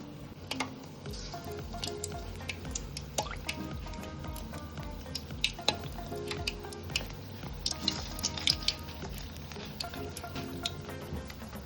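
Sweet paniyaram batter dropped by hand into hot oil sizzles quietly and steadily, with small sharp crackles and pops scattered throughout, close but faint.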